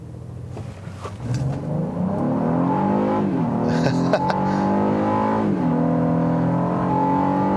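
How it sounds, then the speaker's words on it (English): A 2019 Honda Passport SUV accelerates hard from a stop after brake torquing, its engine revving up through rising, sliding tones with gear changes, heard loud and steady from inside the cabin without talk. "I'm gonna try a quick acceleration run. Try brake torquing it a tad."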